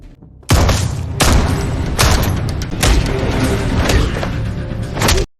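Gunfire in a film action scene, loud rapid bursts of shots and heavy booming impacts hammering almost continuously after a quiet opening, then cutting off abruptly.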